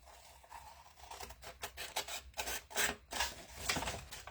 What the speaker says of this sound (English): I think I will just take the scissors.